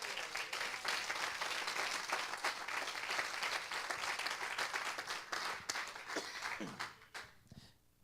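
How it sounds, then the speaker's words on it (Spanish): A church congregation applauds in a dense, sustained burst of clapping that stays loud for about seven seconds, then thins and fades out near the end. "Denle el aplauso al Señor si se lo va a dar"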